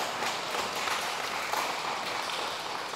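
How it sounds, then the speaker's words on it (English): Audience applause at a graduation ceremony, an even, moderately faint patter of clapping from a crowd that stays steady for a few seconds without voices. "Can we give her another round of applause?"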